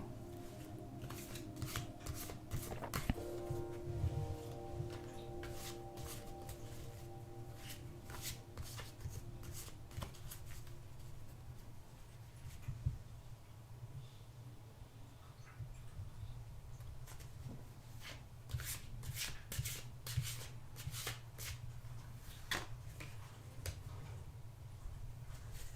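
Tarot cards are shuffled up close in a quiet room, with soft papery riffles and slides repeating in irregular bursts over nearly half a minute and no speech.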